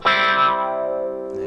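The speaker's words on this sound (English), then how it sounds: "let's add a bit of distortion to that as well." A single sustained Nord Piano 3 electric piano chord with a gritty, distorted edge, struck loudly and slowly fading over a second and a half.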